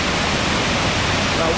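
A large waterfall on the Falls Trail at Ricketts Glen, Pennsylvania, pours in a loud, continuous, broadband roar of falling water that stays even throughout.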